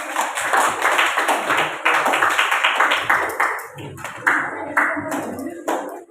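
Classroom students clap for a classmate, a fairly loud and close burst of many hands with uneven rhythm, continuing for several seconds and easing off toward the end.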